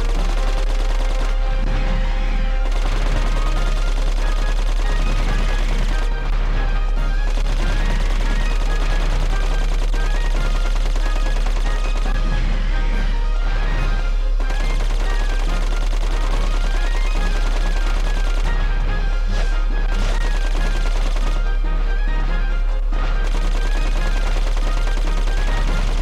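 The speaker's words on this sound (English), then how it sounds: "Just gonna stand here shooting right now." Sustained rapid gunfire from shooting in the video game Dark Cloud 2, loud and continuous for the whole stretch, with short pauses between bursts and a steady low hum underneath.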